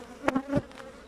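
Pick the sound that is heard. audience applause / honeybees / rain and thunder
honeybees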